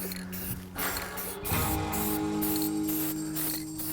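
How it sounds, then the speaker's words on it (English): A steady hiss of aerosol spraying in short bursts, close by, with brief pauses between sprays. "Sometimes a little spray paint is all you need."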